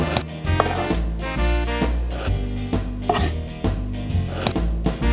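A knife chops finely through chili peppers on a cutting board, a steady run of close, crisp taps and thuds over a background of sustained musical tones.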